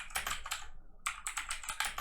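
Rapid typing on a computer keyboard while entering input for a beginner Python program, crisp close key clicks in quick bursts with one short pause midway, no speech.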